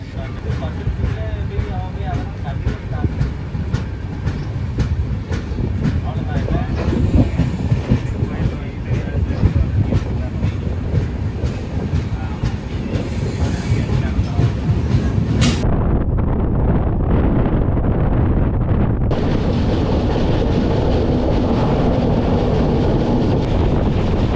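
A daytime passenger train between Madurai and Bengaluru runs on rails, heard from on board as a loud, continuous low rumble mixed with wind rush. The tone shifts partway through.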